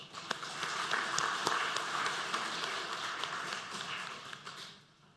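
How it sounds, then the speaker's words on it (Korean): A church congregation claps for the Hallelujah choir and Sunday worship team during a Sunday service, a dense, steady patter of many hands that holds for several seconds before fading away at the end. "우리 할렐루야 찬양대와 주일 경배 찬양팀 축복하고 격려하는 박수합니다"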